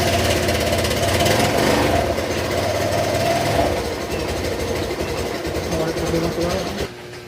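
A repaired motorcycle engine idles steadily and close by, with a dense, rattling mechanical chatter that eases slightly partway through before dropping off near the end. Someone talks over it.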